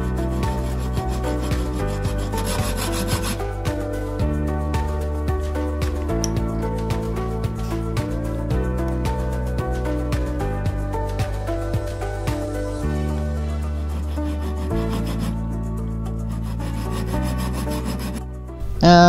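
A hand file rasps over a metal nut to cut flat spots on a 1930s coffee grinder part, making repeated scraping strokes under steady background music.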